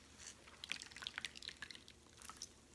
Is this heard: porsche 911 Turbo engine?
no